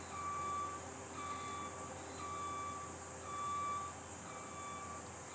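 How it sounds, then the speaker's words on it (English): A vehicle's reversing beeper sounds steadily in the distance, repeating evenly over a low engine rumble. "Man, that boy making a bunch of racket with that beeper."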